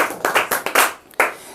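A class of students claps hands for a correct quiz answer in a Sanskrit lesson, with a handful of loose, uneven claps close by, quickly tapering off, then one last clap after a short pause.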